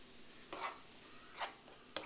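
Lobster cooks in a pan with butter, lemon and Italian parsley, giving a quiet background sizzle with three soft scraping stirs spaced through it and no talking.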